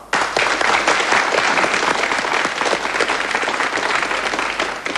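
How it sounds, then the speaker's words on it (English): A studio audience at a 1988 University Challenge grand final, New South Wales versus Melbourne, applauds the quiz teams: a close, loud burst of dense clapping that starts abruptly and holds steady throughout. "I know you'll join me in applauding all the team members for their keen spirit and fine sporting attitude"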